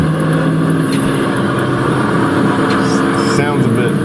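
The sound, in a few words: SSC Tuatara engine intake and exhaust sound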